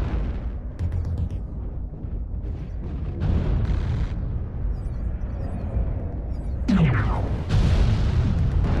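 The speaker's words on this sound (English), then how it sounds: "Oh, I done blowed up the gate turret" A gate turret blown apart in MechWarrior Online, deep booming blasts and rumbling explosions over constant mech engine noise, with a sharp whooshing burst near the end.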